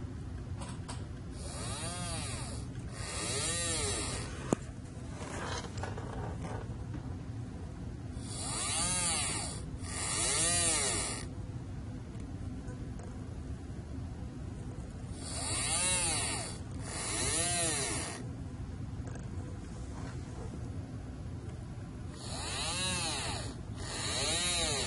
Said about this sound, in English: when you send this program to the Arduino, the DC motor should spin,